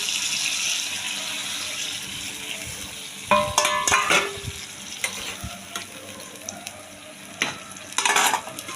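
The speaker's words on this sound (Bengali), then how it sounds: "এবার জল দিয়ে দিচ্ছি।" Pumpkin pieces fry with spices in a pan for a hilsa fish and pumpkin curry, a steady sizzle running throughout, broken midway by a clattering splash as water is poured in, then more sputtering and a final burst of bubbling.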